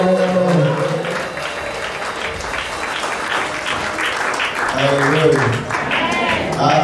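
A church congregation at a French-language worship gathering applauds and cheers in a sustained clatter of clapping, while a voice calls out over it at the start and end.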